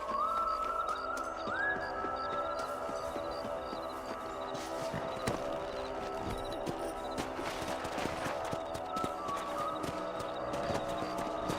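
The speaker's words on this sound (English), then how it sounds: "Mount your horses." Horses walking and galloping in the Red Dead Redemption video game, with steady hoof clip-clop running through a busy game soundscape of music and effects, with no talk over it.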